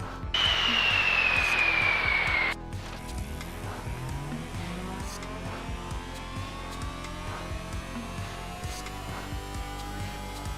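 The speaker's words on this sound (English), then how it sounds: "Turbo slowly coming in" A turbocharged car engine accelerating as the turbo spools up, with a steady rising drone and faint whine building gradually after a brief loud high-pitched tone at the start.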